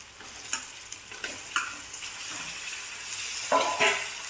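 Chicken pieces sauté in a pan for Bengali chicken kosha with potatoes, a steady close sizzle broken by repeated stirring scrapes and clinks, moderately loud and without talk.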